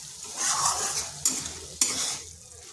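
Spices being sautéed and stirred for a pointed gourd (potol) curry, a steady close sizzle with scraping stirs and two sharp clinks of a spoon against the pan.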